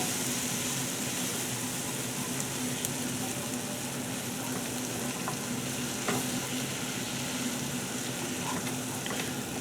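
Sauce steadily sizzles and bubbles over medium heat as cold milk is stirred in, a continuous close frying hiss with faint scraping from the stirring.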